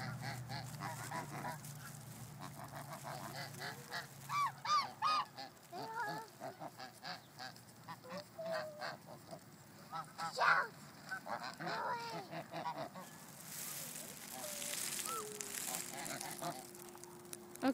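Geese honk repeatedly in a loose chorus, some calls near and loud, others farther off, with scattered brief human voices and movement between the calls.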